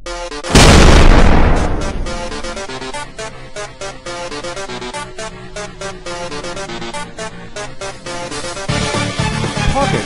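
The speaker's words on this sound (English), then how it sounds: "Pocket Mortar Firing Test." Pocket mortar firing in Melon Sandbox: a loud sharp boom near the start trails into a long rumbling decay, with game music and effects continuing underneath and swelling again toward the end.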